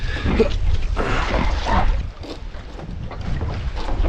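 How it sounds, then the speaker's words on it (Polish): Strong wind buffets a sailboat on a Finnish lake, a heavy, continuous roar of gusts against the microphone mixed with water and hull noise, loud and close with no speech. "Jak wcześniej narzekałem, że nie ma wiatru, teraz jest go aż za dużo."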